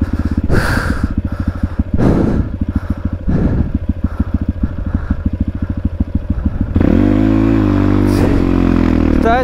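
A motorcycle engine close by runs at a rapid, throbbing idle, broken by blips of throttle and breathy bursts, then rises into a sustained louder rev near the end.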